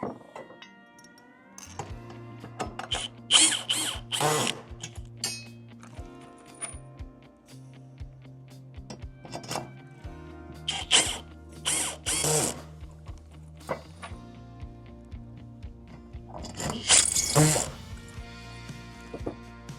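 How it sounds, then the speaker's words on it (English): Torque-controlled screw gun driving screws into ceiling hardware, with several separate bursts of whirring and a ratcheting clutch click-out as each screw seats, fairly close and loud, while someone talks between and over the runs. "this gun really controls that the screws are all put in at the same torque"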